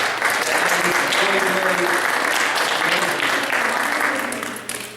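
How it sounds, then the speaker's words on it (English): Young graduates at a Boys and Girls Club clap for themselves, a dense, loud burst of applause close by that tapers off at the end. "So give yourselves a round of applause for that."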